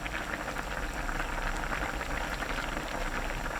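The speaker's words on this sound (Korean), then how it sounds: "뚜껑 닫지 말고 센 불로 끓여주세요. 양념이 끓으면 그때부터 8분 더 끓입니다." Braised tofu in a soy-based sauce bubbling uncovered on high heat, a dense, steady rolling boil of crackling bubbles, close and continuous throughout, with no voices.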